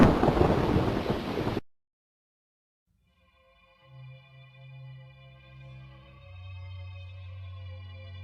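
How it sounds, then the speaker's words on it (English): A storm's thunder crashes as one loud, dense, close rumble lasting about a second and a half, then cuts off to silence before a quiet, low sustained drone swells in. "Then came a crash of thunder."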